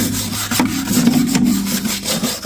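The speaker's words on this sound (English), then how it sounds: "I'm going to start scraping off all this dirt." Dirt is scraped off the underside of a classic VW in close, rasping strokes, several rough passes in quick succession with no voices.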